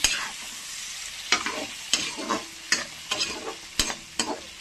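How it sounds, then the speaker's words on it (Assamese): Ginger-garlic paste, turmeric and spices stirred and fried in a pan: repeated sharp spatula scrapes about every half second over a quiet sizzle, close by, with no talking. "উলট পালট কৰি লৰাই দিম"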